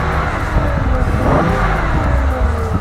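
Car engine idling and running just after start-up, a steady low rumble close by with faint voices mixed in.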